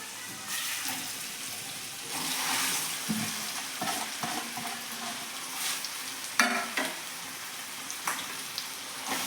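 Potatoes being tossed with salt and spices in a pan for an aloo matar sandwich filling, with scraping spoon strokes and intermittent clanks over a soft, continuous sizzle, fairly close and moderate in level.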